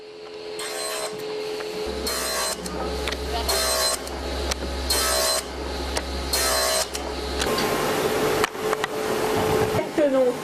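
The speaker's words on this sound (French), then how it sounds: "Ici, la matière est rabotée pour la calibrer en épaisseur." A planing machine shaves eyeglass frame material down to a calibrated thickness, giving a run of rhythmic, loud rasping passes over a low motor drone, with a voice talking over it.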